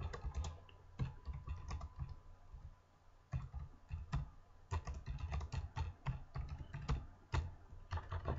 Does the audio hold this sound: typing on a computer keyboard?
yes